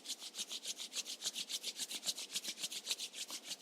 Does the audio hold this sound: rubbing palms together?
yes